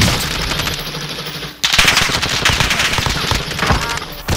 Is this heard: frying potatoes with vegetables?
no